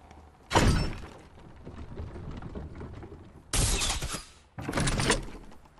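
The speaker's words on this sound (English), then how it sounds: "I just heard a dart trap" A dart trap firing in Fortnite Battle Royale: three loud, bright bursts with crashing, rattling texture, the first followed by a long fading tail and the last two close together, with no voices.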